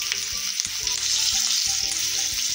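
Cumin seeds and green chillies sizzle loudly in hot ghee, a dense continuous frying crackle with a few soft spoon knocks against the pan, with no voices.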